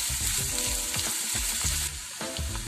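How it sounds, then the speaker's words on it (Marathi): Chopped onion frying in oil and being stirred in a pan for Malvani sukka chicken, a loud, constant sizzle with repeated scraping stir strokes right up close, and no voices. "कांदा व्यवस्थित फ्राय झाला की मी त्यात टोमॅटो टाकणार आहे। एक टोमॅटो मी घेतलाय बारीक कापून, हे हलवत राहायचं आहे।"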